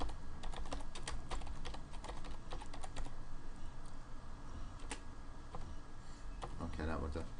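Rapid clicking of keys on a computer keyboard, irregular bursts of typing close by, with faint background noise.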